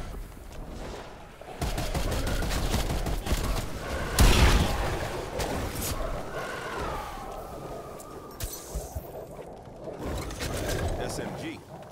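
Submachine gun fire in a Call of Duty Black Ops Cold War Zombies match comes as dense, loud bursts with a heavy boom near the middle, over continuous game noise and voices.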